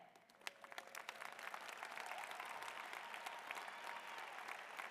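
A seated crowd at a university humanities convocation applauds graduating honor students, a dense, sustained wash of clapping at moderate distance.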